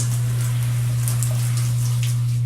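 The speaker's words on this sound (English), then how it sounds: "Let's rinse out that shampoo" Running water rinses shampoo from curly hair in a steady, continuous wash of noise close by, over a low constant hum, with no voices.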